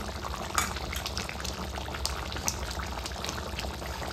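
Pot of chicken and potatoes bubbling on the stove, cooked without oil, with a continuous low boil and scattered sharp pops and bursts of bubbles, close and fairly loud with no talking.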